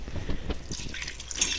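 Broth pours steadily into a 6-quart Instant Pot, a continuous close splashing and trickling of liquid with a brighter, higher spatter near the end.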